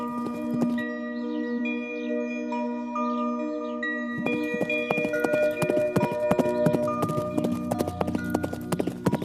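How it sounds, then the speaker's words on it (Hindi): Horse hooves clip-clop in a rapid, rhythmic patter over a melodic musical score with chime-like tones, starting after a few seconds of music alone, as a storybook horse race begins. "दौड़ शुरू हुई, घोड़ा आगे बढ़ा।"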